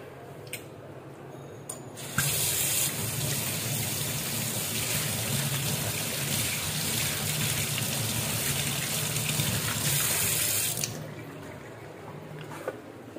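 Salt-rubbed shing catfish rinsed under a running kitchen tap, a steady loud rush of water for about nine seconds with squishy handling splashes, starting and stopping abruptly.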